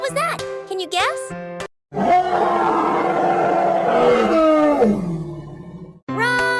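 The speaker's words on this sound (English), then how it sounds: "Roar! D is for dinosaur." A deep, drawn-out dinosaur roar rumbles loudly for about three seconds, growling and then tapering off, with cheerful voices talking just before and just after it.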